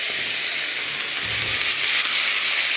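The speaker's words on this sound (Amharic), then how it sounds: "ትንሽ የተወሰነ ሰዓት እንጠብሰዋለን።" Chicken rubbed with turmeric and pepper sizzles steadily in a little oil in a frying pan for a chicken salona with vegetables, a loud continuous crackling fry with no voices.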